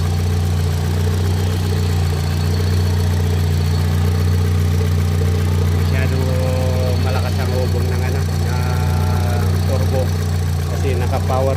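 A SEAT Cupra 2.0 engine runs steadily after a head gasket replacement, a close, continuous idle with a low, even hum and a faint mechanical tick, while a few faint background sounds come and go.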